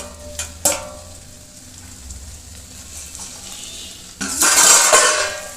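Potatoes fry in a pan for a chhatu (mushroom) curry, with a sharp utensil clink early on, a low steady sizzle, then a loud burst of frying hiss near the end.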